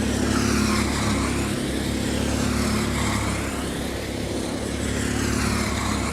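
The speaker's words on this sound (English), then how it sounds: "drivers are going to start their flying lap now." Racing karts at the KWC Kart World Championship, heard as a steady, loud engine drone as they lap the circuit, with a continuous buzzing tone and no pauses.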